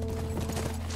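Horse hooves clip-clop at a slow, steady pace while riding in The Last of Us, a continuous close rhythm over a low droning game background with no talking.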